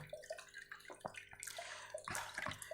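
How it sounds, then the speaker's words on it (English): A BluePet BLH 301 hang-on-back aquarium filter runs close by, its outflow splashing and gurgling into the tank water with bursts of bubbling and dripping. "once the filter starts running, the noise that the filter is making will also reduce"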